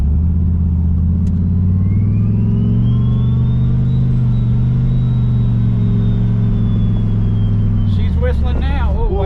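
A 515 hp car accelerates with a loud, deep engine drone while a thin rising whistle climbs and holds above it, then the engine eases off and people start talking near the end.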